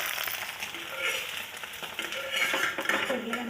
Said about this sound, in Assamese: কণীৰ আমলেট বনাইছোঁ, দুটা কণী,